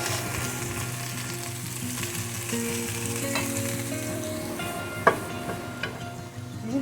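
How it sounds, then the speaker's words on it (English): Zucchini and other vegetables with onions cooking down in a pan for ground beef, giving a steady broad sizzle with occasional utensil clinks and scrapes, close and alone. "So we're going to let that cook down for a little bit."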